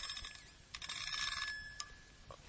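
A solid gold watch chiming the hours gives a faint, delicate series of high bell-like tinkles, quiet and close, over a soft background hiss.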